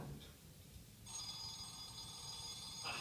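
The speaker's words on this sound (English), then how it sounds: "of course it's the sound of the alarm clock." A bell-like alarm starts ringing after a second of quiet and keeps going steadily, faint and somewhat distant.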